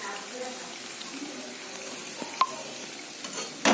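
Coriander, cumin and turmeric powders being stir-fried in a pan for a home Saraswati Puja meal: a faint, steady sizzle with soft scraping, a sharp clink of a spoon partway through and a louder clatter at the end.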